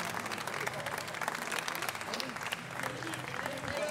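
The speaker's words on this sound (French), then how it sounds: "Merci Camille, on peut l'applaudir encore bien fort et applaudir l'ensemble des candidats." An audience applauds candidates at an award ceremony for a hotel trophy event: steady, dense clapping from a crowd, sustained throughout, with a voice speaking over it.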